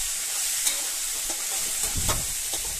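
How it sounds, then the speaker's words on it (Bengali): Paneer frying in a pan, a steady loud sizzle with a few scraping stirs of a spoon close up. "পনির রান্না হচ্ছে"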